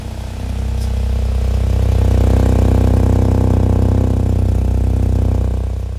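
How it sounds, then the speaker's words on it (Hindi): Exhaust note of a white Hyundai Venue N Line N10 DCT with a double silencer: a steady, loud, deep idle rumble held close and alone for the whole stretch, with no voices over it. "ये आपने सुनी होगी अभी एग्जॉस्ट की साउंड।"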